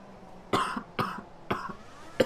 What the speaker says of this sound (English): I can't stop coughing for some reason